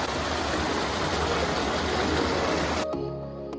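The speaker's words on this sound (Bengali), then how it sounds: "আমি এখন ঝর্ণার ঠিক মাঝ জায়গাটাতে আছি" A waterfall stream in Germany's Black Forest rushes in a loud, even hiss of falling water, heard up close for nearly three seconds before cutting off sharply.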